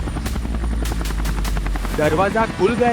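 A cartoon helicopter in flight gives a steady, loud low rotor drone with rhythmic chopping pulses throughout, while voices speak over it.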